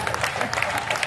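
A brief burst of audience clapping rises at a large Hindi poetry gathering in Sojat, with uneven claps over a close, noisy crowd.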